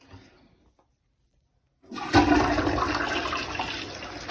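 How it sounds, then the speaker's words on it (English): A toilet is given a full flush with the button held down: quiet at first, then a sudden loud rush of water that keeps pouring steadily to the end. "That's a full flush."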